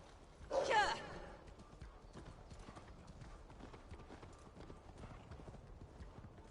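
Horse hooves clip-clop in Assassin's Creed Valhalla, a short loud burst of hoofbeats near the start, then fading into a low, steady game ambience with faint scattered sounds.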